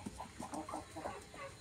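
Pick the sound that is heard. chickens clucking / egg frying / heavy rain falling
chickens clucking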